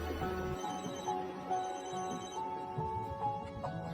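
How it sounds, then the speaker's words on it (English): A phone rings with an incoming call in an empty student dorm, a steady electronic ringtone melody repeating close and clear over a low background hum, with no talking. "a sudden phone call interrupted my breakdown"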